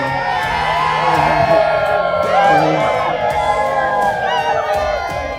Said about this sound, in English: Crowd's getting a bit wild up in here now.